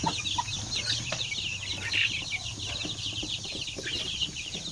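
Native chickens, including a pure Basilan rooster, clucking and calling in a busy farmyard, steady chatter of several birds with constant background noise, no one speaking.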